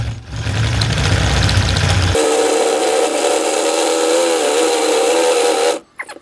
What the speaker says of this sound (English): Drilling metal with a masonry drill bit, nonetheless.